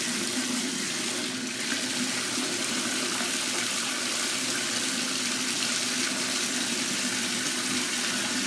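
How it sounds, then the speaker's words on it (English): Water runs steadily from a tap into a sink, a continuous hiss and splash at moderate level with no talking. "Gonna have to turn that water off."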